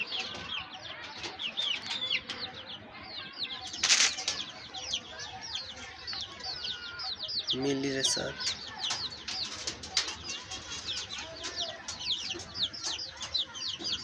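Pigeons and chickens in a coop make dense chirps and clucks, with a brief burst of wing flapping, while a person talks in between.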